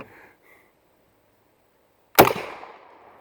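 A shotgun fired off the bench at a target with a mini shell, a single sharp loud blast with a short ringing decay after a quiet pause.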